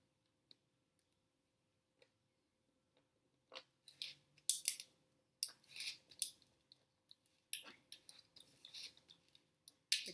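An X-Acto knife cuts a small hole in a lid, a close series of sharp scratchy crunches and clicks in irregular bursts with quiet pauses between them.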